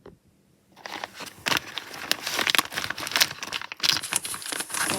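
Crinkly plastic packaging being torn open while unboxing a Labubu collectible toy, with close, irregular crackling and rustling bursts after a brief quiet start, and no voices.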